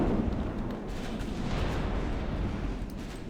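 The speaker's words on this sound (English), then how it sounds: "somehow my guns are still shooting" Warship guns fire in the naval battle game Ultimate Admiral Dreadnoughts, a dense continuous rumble of heavy booms and distant blasts rolling together at steady loudness, with no speech.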